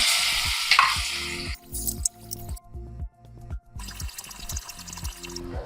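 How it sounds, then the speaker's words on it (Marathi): Ground masala paste sizzles and crackles in hot oil with mustard seeds and turmeric for Khandeshi shev bhaji, a steady close fry broken by rhythmic scraping and stirring strokes of a spatula, no voices. "आता हा छान मसाला आपण आता परतून घेतोय तेल सुटेपर्यंत"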